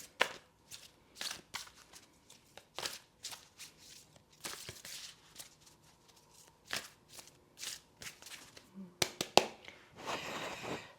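An oracle card deck being shuffled by hand: repeated soft riffling and flicking bursts of the cards in an irregular rhythm, fairly close and quiet, with no speech over them.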